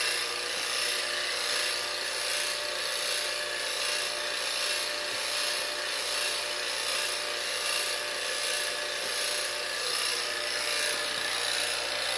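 Vacuum pumps on an HVAC vacuum rig run continuously with a steady, dense mechanical drone and high whine, heard close and unchanging throughout.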